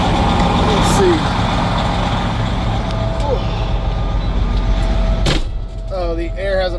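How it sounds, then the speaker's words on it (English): A newly assigned semi truck sits idling on a cold, rainy day while its low air pressure warning beeps sound in the cab, under a loud, steady engine rumble, with someone speaking briefly near the end. "the air hasn't built up yet, so we're gonna hear some beeping for a little bit"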